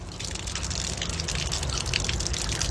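Water gushes steadily from one of three old Ottoman-era public taps at a clock tower in Izmit, Kocaeli, Turkey, a close, continuous splashing flow with no voices.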